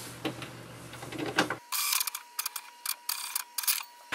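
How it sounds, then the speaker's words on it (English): An HP Envy 6000 inkjet printer cleans its print head, first whirring with a low motor hum, then giving a series of irregular mechanical ticks, clicks and short bursts, quiet and close with no talk. "now it's cleaning the print head"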